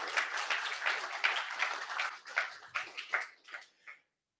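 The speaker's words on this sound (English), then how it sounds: "just give them a hand of applause" Applause from attendees at a regional councils symposium wrap-up, a patchy burst of clapping that thins out and stops abruptly near the end.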